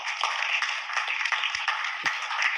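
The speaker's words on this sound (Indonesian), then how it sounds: "Tepuk tangan buat Argentina." An audience at an Indonesian football gathering claps for Argentina, producing a steady wash of applause with a few sharper individual claps standing out.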